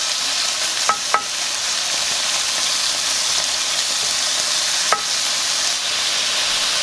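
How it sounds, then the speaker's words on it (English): Bacon sizzles steadily in a pan for a shrimp and bacon rice bowl, a constant crackling hiss broken by a few sharp pops and light clicks, close and with no talking. "while our bacon continues to cook"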